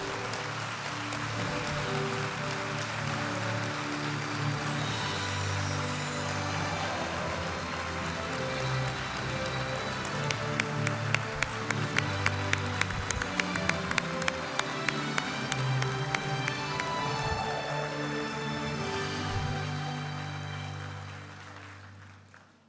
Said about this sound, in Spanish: A sus rectores les solicitamos ponerse de pie y recibir el aplauso de felicitación